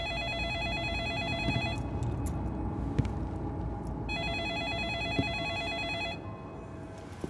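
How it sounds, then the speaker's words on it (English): An old office desk telephone in a concert hall rings in repeated electronic bursts, two long trilling rings with a pause between, loud and close in an otherwise quiet room. "As I walk up to the desk, the phone kept on ringing"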